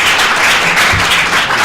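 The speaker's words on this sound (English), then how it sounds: "Let's give our incredible panelists a round of applause." An audience at a panel event applauds the panelists, giving a brief, dense, steady burst of many hands clapping together.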